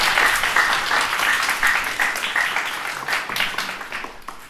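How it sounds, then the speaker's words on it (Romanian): An audience applauds continuously, a dense, loud patter of many hands clapping that fades slightly toward the end. "Haideți să-l aplaudăm pe Victor."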